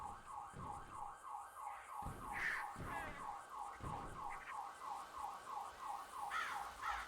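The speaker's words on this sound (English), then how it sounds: "I don't think I've ever heard these sirens." Emergency vehicle sirens wail in a fast, regular rising-and-falling cycle, steady and moderately loud throughout, with a few faint knocks and rustles in the foreground.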